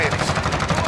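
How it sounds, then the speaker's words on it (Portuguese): Rapid gunfire in a Call of Duty: Modern Warfare multiplayer match, with dense overlapping bursts of automatic shots that are loud and continuous throughout. "Estão atirando em mim."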